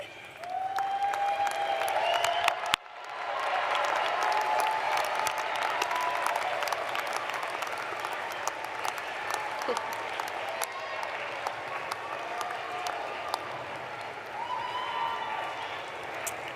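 A large audience at a university commencement applauds and cheers in sustained, dense clapping, with whistles and shouts rising throughout and a brief break near the start.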